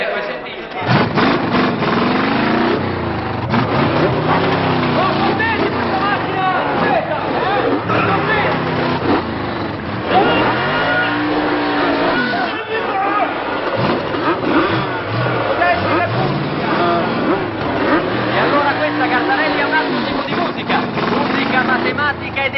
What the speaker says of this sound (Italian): Abbiamo il rombo del motore, vai.